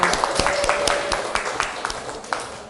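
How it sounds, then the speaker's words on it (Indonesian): Scattered clapping from a classroom of students during a lesson on the human digestive system, a sparse handful of sharp claps spread unevenly over a few seconds with a faint voice and a thin tone beneath. "Tepuk tangan untuk Bintang."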